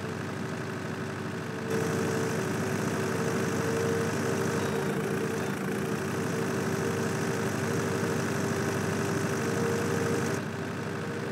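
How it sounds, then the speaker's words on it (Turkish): A tractor engine revs at top speed in Farming Simulator 2019, a steady droning hum held at a constant pitch throughout, moderately loud with no speech. "Bakalım traktör istediğimiz hıza ulaşabilecek mi top devrinde."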